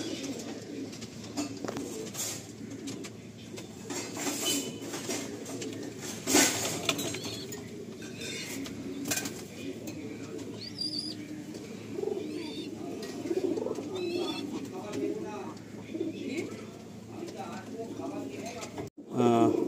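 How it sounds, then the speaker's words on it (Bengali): Pigeons in a loft coo softly and repeatedly, with wing flutters and light shuffling around them, while someone talks steadily nearby. "এই হচ্ছে আমার এক পেয়ার পায়রা"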